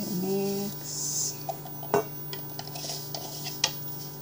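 Banana bread batter with sugar and rice flour mixed in a bowl: a utensil clinks and scrapes against the dish in short, irregular knocks at close range, with a few sharper taps.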